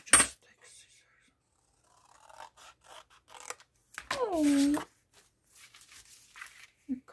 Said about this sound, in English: Okay, just take scissors.